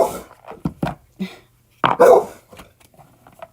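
A dog nearby gives a few sharp barks mixed with softer whimpering and whining sounds in short, irregular bursts with quiet gaps.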